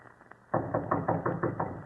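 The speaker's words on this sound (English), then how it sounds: "He will then assume his most authoritative air and knock." A series of firm knocks on a wooden door, about seven evenly spaced raps, close and clear, after a few faint taps.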